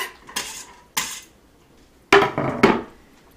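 Vegetables such as carrots and potatoes dropped into a soup pot for bone soup, a few sharp close clunks and knocks in separate bursts, the last ones clustered together, with quiet gaps between and no talk.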